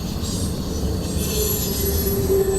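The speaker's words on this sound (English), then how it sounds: "you can see the train going into the curve and disappearing" A freight train rolls into a curve near Mortons Gap, Kentucky, a loud, steady rumble of wheels and cars with a thin metallic wheel squeal rising over it as it passes close by.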